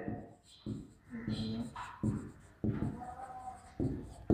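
Pen or pencil scratches across paper while a math problem is worked out by hand, short bursts of writing strokes heard close up amid quiet pauses.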